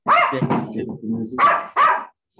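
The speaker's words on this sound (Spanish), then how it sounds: "ya escucharon ahí al perrito" A small dog barks in short, sharp yips close by: a burst of barks, a brief pause, then two more distinct barks, loud and alone with no one talking.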